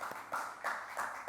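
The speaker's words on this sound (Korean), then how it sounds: "우리 다시 한 번 더 박수로 격려하도록 하겠습니다." Church congregation clapping in applause at a youth worship service, a brief burst of hand claps arriving in rhythmic pulses at a moderate, slightly distant level with no talk over it.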